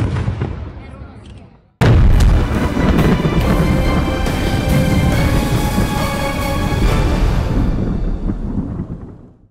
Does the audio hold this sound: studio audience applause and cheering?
no